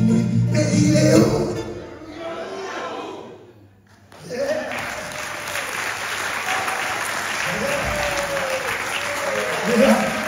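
An audience claps at a live blues show by two guitarists: a sustained wash of applause that dips briefly and then swells again, with a voice speaking over it.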